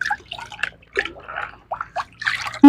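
Pap grains being washed in water, with a series of close splashes, drips and sloshing bursts separated by short pauses, ending in a sudden louder pour.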